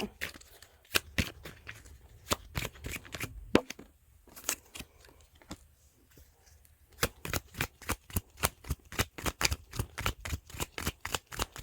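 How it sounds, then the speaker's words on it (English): Playing cards being shuffled in rapid bursts of crisp riffling clicks, pausing briefly midway before resuming with steady rhythmic snaps, close up. "bear with me because I'm shuffling here now."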